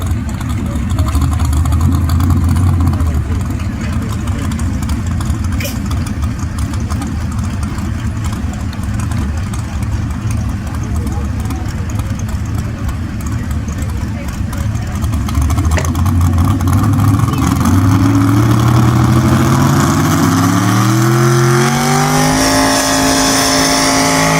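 A small block 4x4 truck pulling a sled at a county fair pull holds a loud steady engine roar, then revs climb sharply near the end as the run begins.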